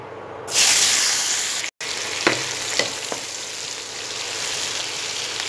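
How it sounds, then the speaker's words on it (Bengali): Chopped onion, one large onion's worth, hits oil left over from frying fish and bursts into a loud, steady sizzle, with a brief dropout followed by a few faint clinks of stirring. "মাছ ভাজার তেলে আমি এবারে একটি বড় সাইজের পেঁয়াজ কুচি দিয়ে দেব"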